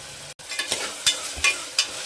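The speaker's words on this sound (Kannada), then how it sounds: "ಈ ರೀತಿಯಾಗಿ ಟೊಮೊಟೊ ಎಲ್ಲ ಒಗ್ಗರಣೆಯಲ್ಲಿ ಚೆನ್ನಾಗಿ ಫ್ರೈ ಮಾಡಿಕೊಂಡು" Tomatoes fry in a spiced oil tempering with a soft, steady sizzle, broken by several sharp scraping strokes of a spoon stirring the pan.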